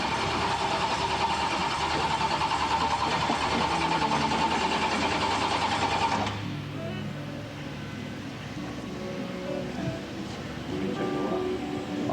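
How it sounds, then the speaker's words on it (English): A 358 cubic inch, roughly 720 horsepower NASCAR racing engine roars loud and steady for about six seconds, then cuts to a lower idle-like rumble. "They're 358 cubic inches. They put out about 720 horsepower, which is, you're getting ready to hear one personally."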